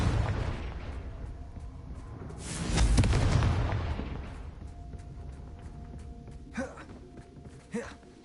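In the video game Hogwarts Legacy, the Confringo explosion spell lands as a deep booming blast with a rumbling tail, followed later by two sharper impacts over game ambience.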